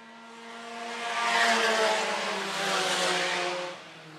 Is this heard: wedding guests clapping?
no